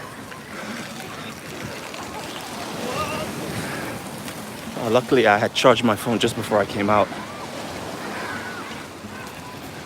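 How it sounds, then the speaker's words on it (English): Choppy ocean water at Waikiki Beach rushes and hisses steadily, mixed with wind rumble on the microphone, while someone talks over it for a few seconds in the middle. "the water's really choppy"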